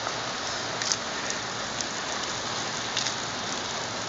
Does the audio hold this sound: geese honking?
no